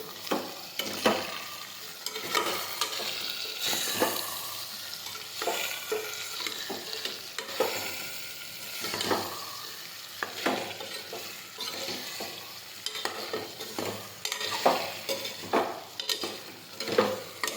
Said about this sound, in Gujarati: હવે આપણે બધા મસાલા છે તેને મિક્સ કરી દઈશું